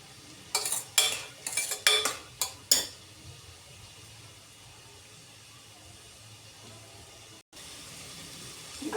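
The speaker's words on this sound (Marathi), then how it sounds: "मग आता आपण गवार टाकूया. गवार एक 2 मिनिट असा परतून घ्यायचा." Cluster beans (gavar) are stir-fried in a pressure cooker with garlic and curry leaves, a spoon scraping and clinking in a quick burst of strokes near the start before a low, quiet simmer.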